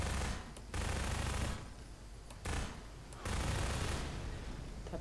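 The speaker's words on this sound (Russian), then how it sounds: "Нас обстреливают!" Rapid bursts of gunfire in the video game Half-Life 2 come in three long volleys with brief gaps between them, loud and dense, like sustained automatic fire.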